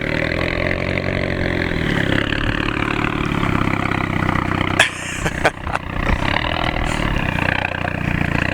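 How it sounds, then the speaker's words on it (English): A loud, raspy straight-pipe exhaust on a VW Golf 7 GTI drones continuously nearby, rising and settling as the engine revs, with a few sharp pops midway. "Yeah, the exhaust sound."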